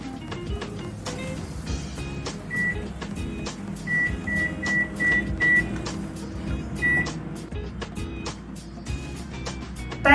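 A Panasonic microwave oven runs on its microwave setting while cooking rice and dal, giving a steady hum with repeated short beeps and faint background voices.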